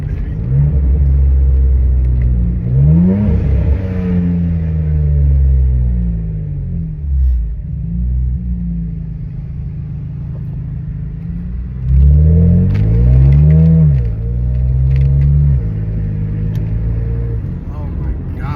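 A BMW N54 engine with a VRSF muffler delete revs in two loud bursts with rising and falling harmonics, separated by a lower rumbling idle, up close.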